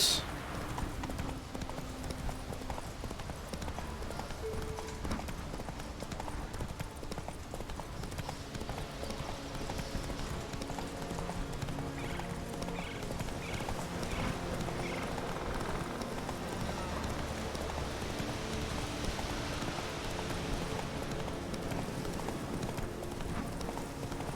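Roach the horse trots in Witcher 3, hooves clip-clopping in a steady continuous rhythm under in-game ambience and music, with a voice talking intermittently over it.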